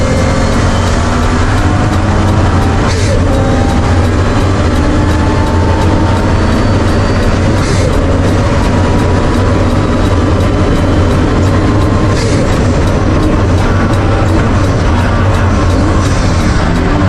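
A rented historic race car weighing 1150 kg drones on track with a loud, steady engine roar and low mechanical rumble held for the whole stretch, broken only by brief bursts of higher noise.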